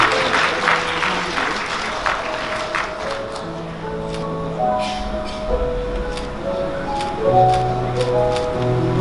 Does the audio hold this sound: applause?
yes